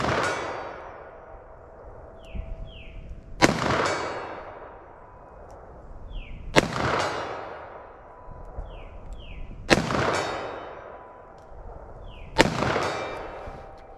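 Five sharp, loud gunshots from a short-barrel .357 Magnum revolver firing Federal Train + Protect rounds, spaced a few seconds apart, each with a ringing metallic clang after it and a quiet background between shots.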